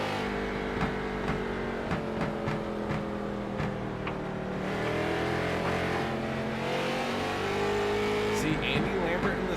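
Race cars run laps during a televised stock car race, with steady engine drone and passing roars continuing under a commentator's voice throughout.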